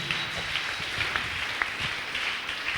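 Brief, steady applause from a church congregation, a continuous patter of many hands clapping at moderate loudness for a few seconds.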